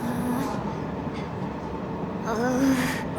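Train ride in the video game Final Fantasy 7 Intergrade heading to Shinra: a steady rumbling rail roar throughout, with faint metallic wheel squeals rising near the end.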